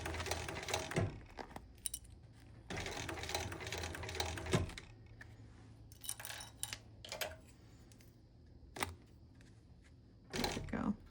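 A sewing machine stitches a straight seam with back stitching in bursts of rapid mechanical whirring, starting and stopping several times, separated by quiet pauses with small clicks and handling noises, fairly faint and close.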